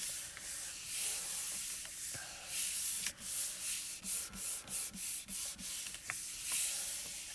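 Pan pastel being rubbed firmly by hand onto a stamped print on paper: a hushed, dry scrubbing that settles into a quick, even rhythm of about a dozen short strokes, close up and alone.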